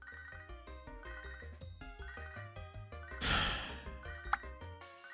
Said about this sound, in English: It is not the time for phone call at all.